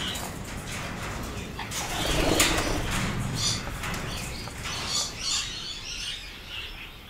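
Budgerigars, including harlequin pied birds, chirping in an aviary, a busy steady chatter of small bird calls with brief louder chirps throughout.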